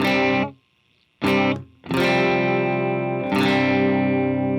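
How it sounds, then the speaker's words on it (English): A dry electric guitar with no reverb or delay plays distorted, sustained chords. The notes are loud and close, cutting off sharply into silence between strums, with a long held chord at the end. "So here's our dry signal with no reverb at all, no delay either."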